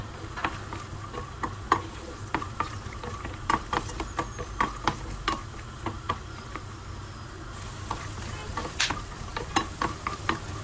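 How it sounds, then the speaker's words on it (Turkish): Blanched almonds roast in oil in a pan while being stirred, giving a steady soft sizzle with scattered clicks and scrapes from the spoon, fairly close and without voices. "Sürekli karıştırarak rengi pembeleşene kadar kavuralım"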